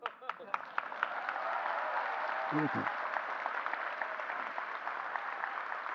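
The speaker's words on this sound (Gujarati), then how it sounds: "તમે તાળીઓ પાડો છો એ તમારો ઉત્સાહ છે" Audience applause at a spiritual leader's katha at Shrimad Rajchandra Mission, Dharampur: a crowd claps steadily and fairly loudly for several seconds after a few scattered opening claps, with a voice briefly heard over it.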